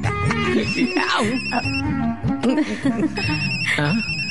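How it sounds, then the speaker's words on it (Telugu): A telephone rings with a repeating electronic tone in two separate bursts, heard during a Telugu movie scene with people talking over it. "వీడెందుకు ఇప్పుడు ఫోన్ చేస్తున్నాడు?"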